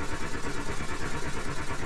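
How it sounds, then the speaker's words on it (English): A steam engine runs in the Steam Engine Simulator game, producing a steady, fast rhythmic chugging with a dense hissing wash, even and continuous throughout. "Now we have working steam engine."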